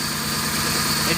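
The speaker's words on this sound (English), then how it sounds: "simply go back in the vehicle and start the vehicle up again. And let the vehicle run a little bit longer" A car engine idles steadily close by, a continuous low rumble and hum with slight vibration and no change in pace throughout.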